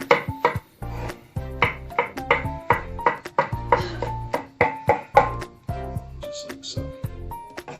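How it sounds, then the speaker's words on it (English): Mushrooms being rough chopped with a knife on a cutting board, a close, quick run of knocking cuts in irregular bursts, with faint kitchen clatter. "I'm going to just rough cut these mushrooms."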